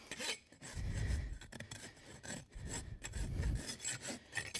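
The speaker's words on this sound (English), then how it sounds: "Take a clinching rasp, make them all the same length." A clinching rasp files horseshoe nail ends on a hoof in repeated rough, scraping strokes, with two heavier pushes standing out among lighter rubs.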